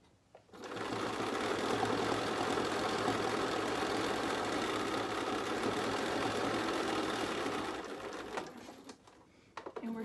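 A sewing machine runs a steady, continuous quarter-inch seam along a fabric edge for most of the clip, close and loud, then slows and stops near the end before a brief restart.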